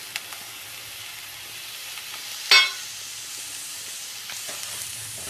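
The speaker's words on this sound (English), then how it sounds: "Now add the finely chopped onions and carrots." Finely chopped onions and carrots fry in a pan for broken wheat sprout paniyaram, giving a steady soft sizzle with one brief louder burst of hissing partway through.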